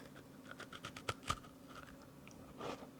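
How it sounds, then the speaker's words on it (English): Shortbread cookie bitten twice, two sharp crisp crunches standing out among smaller crumbly clicks, fairly quiet and close, with no talking. "Hear that crunch?"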